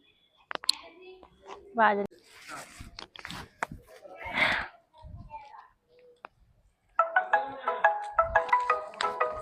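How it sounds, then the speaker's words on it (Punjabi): People talk quietly with scattered clicks and rustles, then a phone's ringtone plays a repeating melodic tune loudly and close by for the last few seconds, signalling an incoming call. "ਇਹਦਾ ਫੋਨ ਅੱਜ ਫੇਰ ਆ ਗਿਆ"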